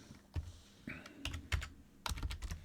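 Several sharp keystrokes clatter on a computer keyboard in short irregular bursts, picked up by a microphone just above it. Quiet and close, with a faint voice in the background.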